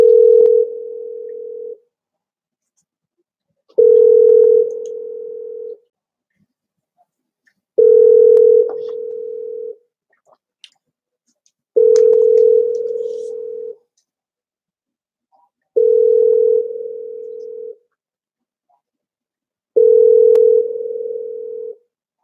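A telephone line rings back while a call is placed, with six evenly spaced steady tones of about two seconds each and near-silent gaps between them, loud and clear with no talking.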